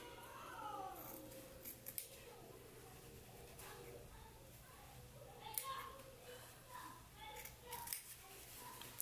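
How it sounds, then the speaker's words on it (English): Scissors snip through the fabric corner of an anorak, short close cutting clicks spread through the clip, with a voice and other speech heard faintly around them. "I'm also gonna trim a little bit into that corner."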